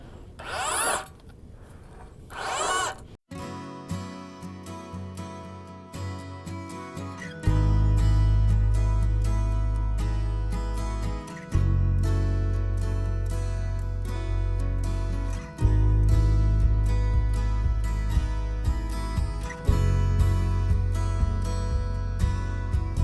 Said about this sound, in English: we're gonna auger a hole.